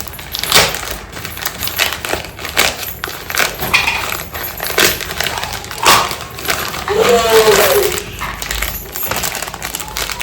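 Plastic courier parcel from Meesho being torn and unwrapped by hand, with sharp crinkling and ripping bursts spread through the clip, some rustling and soft talk in between.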